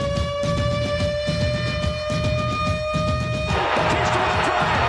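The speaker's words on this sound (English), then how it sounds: "Here comes the siren." A siren sound effect plays on a sports radio show, a steady, loud wailing tone over crowd-like noise that stops after about three and a half seconds and gives way to a burst of broadband noise.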